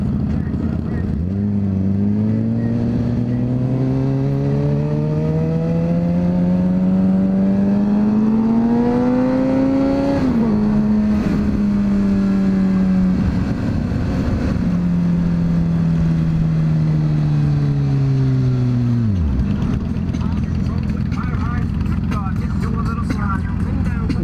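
A motorcycle engine at a biker gathering of Bikers Against Child Abuse revs up steadily and close by, dips, climbs again, then drops away near the end, with people talking over it.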